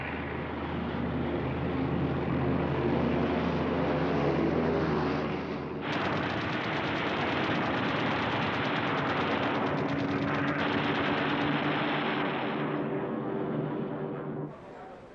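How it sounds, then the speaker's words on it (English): Sustained loud bursts of machine-gun fire mixed with aircraft engine roar, from Messerschmitt Bf-110 fighters strafing fuel supplies and parked aircraft, dense and continuous with an abrupt shift midway. "Messerschmitt Bf-110s followed up in strafing attacks, concentrating on fuel supplies and aircraft in the open."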